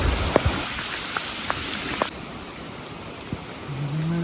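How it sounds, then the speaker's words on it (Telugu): Heavy rain falling near a river among trees, a constant dense hiss of drops with a few sharper taps on nearby surfaces, steady and fairly close throughout. "వర్షం అయితే చాలా గట్టిగా పడుతుంది."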